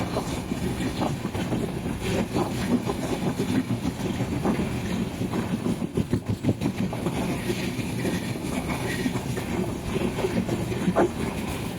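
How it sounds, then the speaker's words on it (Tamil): A DEMU passenger train running from Cuddalore toward Salem, arriving at a level crossing on the East Delta route, gives a steady broadband rumble with faint rhythmic clatter and wind buffeting throughout, and no talk. "ஸோ அந்த ட்ரெயின் இப்போ வந்துட்டுருக்கான்."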